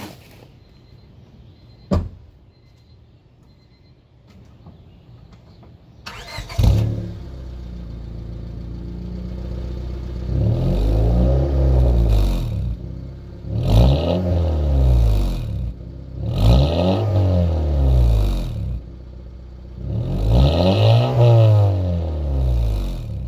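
A 1996–2000 Honda Civic with a new aftermarket eBay muffler is started after a quiet stretch and a sharp click, then revved in four distinct rising-and-falling bursts, loud and close, with a steady idle rumble between them.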